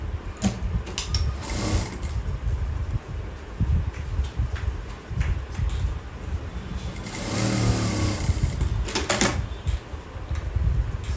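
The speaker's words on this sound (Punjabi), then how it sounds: "ਇੱਥੋਂ ਅਸੀਂ ਨੈਕ ਰੱਖ ਕੇ ਪਹਿਲਾਂ ਇਹ ਸੈਂਟਰ ਵਾਲੀ ਸਲਾਈ ਲਗਾ ਲੈਣੀ ਹੈ" Sewing machine running in bursts while stitching invisible lace onto a garment neckline along a centre seam, a close, steady mechanical whirr that pauses and restarts several times with no talk.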